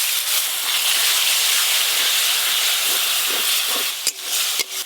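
A splash of water hits a pan of fried onions with ground coriander, cumin, dried chili paste and turmeric, setting off a loud, continuous hissing sizzle, then a couple of sharp bursts near the end.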